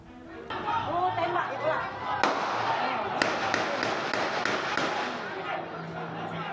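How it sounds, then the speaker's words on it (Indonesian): Police warning shots ring out in a tense village standoff in Mesuji, Lampung, several sharp cracks answering one another over a crowd's loud chatter and shouting. "Suara tembakan terdengar bersahutan."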